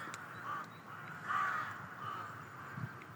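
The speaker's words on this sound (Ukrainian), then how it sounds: "І дивлюсь, пташка летить." A crow caws repeatedly in a city setting, several harsh calls at moderate distance over steady background hum.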